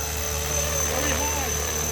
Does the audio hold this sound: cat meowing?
no